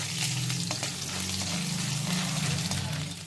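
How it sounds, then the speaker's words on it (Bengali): Grated coconut lightly frying in a pan, a continuous moderate sizzle over a low steady hum, with occasional faint scrapes, close and unbroken by talk. "নারকেল কুচানো নারকেলটা হালকা করে ভেজে নিচ্ছি"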